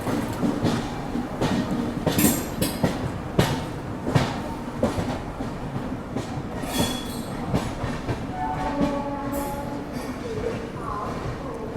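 A Rajdhani Express rolls out of Bilaspur Junction with a steady rumble and rhythmic clickety-clack of wheels over rail joints, plus occasional squeals, heard from inside the train for the whole stretch.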